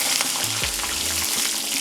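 Tempering seeds and dals fry in hot oil for a bitter gourd onion fry, a steady close sizzle with a few scraping stirs of the pan, no talking.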